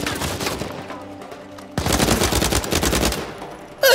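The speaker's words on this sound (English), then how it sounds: "I thought there was bullets coming from behind me." Gunfire during a firefight in the game Uncharted 4: A Thief's End, a dense stream of rapid shots that drops back briefly, then returns louder and continues steadily to the end.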